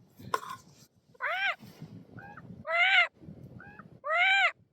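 A bird gives three loud, nasal, arching calls at steady intervals close by at a freezing winter campsite, with quieter chirps between them over faint rustling.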